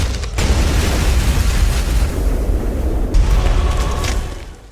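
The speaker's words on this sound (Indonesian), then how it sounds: "Sesaat setelah Tai melemparkan kotak lotre, gudang itu pun meledak dengan sangat dahsyat." A huge, sustained explosive roar of a fireworks warehouse blowing up in a film, with deep rumbling, rising again into a second blast before slowly fading.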